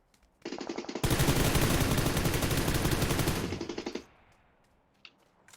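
Sustained automatic gunfire in PUBG Lite, a loud continuous burst of rapid shots lasting about three seconds, then a quiet tail with one faint distant shot.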